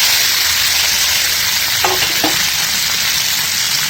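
Arbi (taro) frying with spices in a pan, a loud, continuous close sizzle with a couple of brief stirring scrapes midway, no voices.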